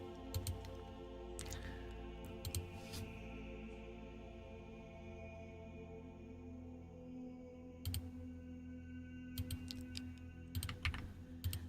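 Typing on a computer keyboard fitted with custom keycaps, quick bursts of crisp clicky keystrokes separated by longer stretches of low background hum.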